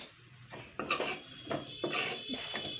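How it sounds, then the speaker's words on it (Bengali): Raw papaya tutti frutti being stirred lightly in a pan with a spoon of refined oil, off the heat: soft irregular scrapes and clinks of a utensil against the pan, faint and close. "একটুখানি হালকা নাড়াচাড়া করে দেব"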